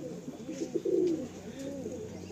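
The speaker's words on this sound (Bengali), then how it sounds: "এই পায়রা দুটো দেখো কত সুন্দর পায়রা" A pair of Chatiyal pigeons coos nearby, a few soft throaty rolling notes in a short burst, moderately loud with no voices.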